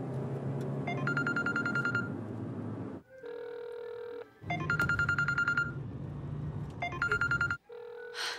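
A telephone call is being dialed, with repeated bursts of electronic tones alternating with short steady beeps in a regular on-off pattern and no talking.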